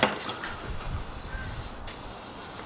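Penetrant sprayed from an aerosol can onto car bolts on a Honda Civic, a steady close hiss lasting a few seconds with a brief gap near the end.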